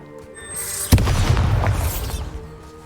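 A Bombarda spell in Hogwarts Legacy detonates in one loud, sudden boom that rolls into a crumbling, rumbling tail lasting a couple of seconds, preceded by a short magical whoosh.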